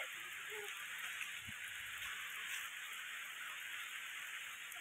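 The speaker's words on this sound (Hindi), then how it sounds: "बहुत ज्यादा बारिश हो रहा है।" Steady, faint hiss of heavy rain at Bengal Safari park, a dense continuous patter with no distinct drops standing out.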